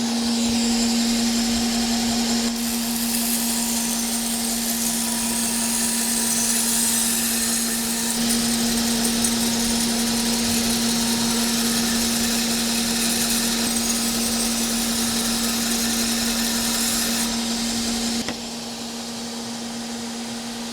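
A custom-built machine grinds a steel knife blank with a loud, continuous abrasive whir over a steady motor hum, the texture shifting slightly partway through and dropping in level near the end.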